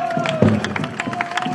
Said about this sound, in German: Einen großen Applaus für den Sattelbogner.